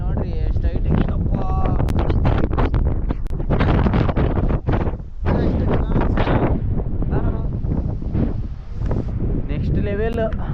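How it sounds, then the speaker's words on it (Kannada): Strong gusts roar across the exposed hilltop of Kote Betta in Coorg, buffeting the microphone loudly and continuously with brief lulls, while someone talks over the rush of air. "ಫುಲ್ ಗಾಳಿ, ಮಳೆನೂ ಇಲ್ಲ ಏನೂ ಇಲ್ಲ, ಫುಲ್ ಗಾಳಿ ನೋಡ್ರಿ ಎಷ್ಟು ಹೈಟ್ ಐತಪ್ಪ."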